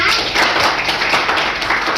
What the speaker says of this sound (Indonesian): sebelumnya kita tepuk tangan semua